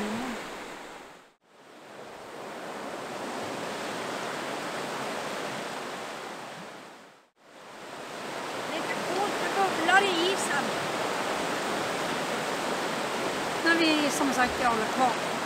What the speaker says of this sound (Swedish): Forsar de mycket vatten i alla fall